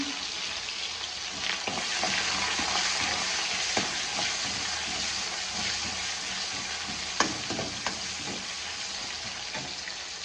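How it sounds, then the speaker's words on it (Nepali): Onion sizzles steadily in oil with bloomed whole spices while dal is being prepared, a continuous close frying hiss with occasional soft stirring scrapes and small pops. "त्यस पछाडि मसला फुलिआएपछि यो प्याज हाल्ने।"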